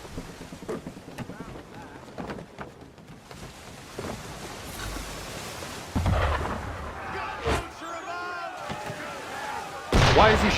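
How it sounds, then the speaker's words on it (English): Ship cannon fire at sea in Assassin's Creed 3, heavy booms bursting out around six and ten seconds over rolling wind and water noise, with a few dull thuds between. "Why is he shooting at us?"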